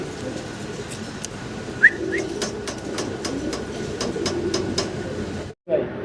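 Black checker Mundian pigeons at a pigeon sale coo softly in the background amid a noisy hum, with scattered sharp clicks and a brief whistle-like chirp.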